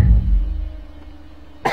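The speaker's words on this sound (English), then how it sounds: "I'm still coughing up mucus." A person coughing during a horror video game session, one heavy, deep, close cough at the start fading into a low rumble, followed by a short sharp burst at the end.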